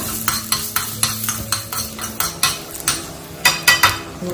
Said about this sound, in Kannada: ಸೊ ಜಸ್ಟ್ ಈ ತರ ಮಿಕ್ಸ್ ಮಾಡ್ಕೊಳ್ಳೋಣ